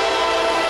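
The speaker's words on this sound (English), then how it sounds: "But here comes a southbound Intermodal. Looks like it's a solo AC-44 C6M that's leading the Intermodal." Southbound intermodal freight train led by a single AC44C6M locomotive, a loud, sustained horn blast sounding close by with no talking.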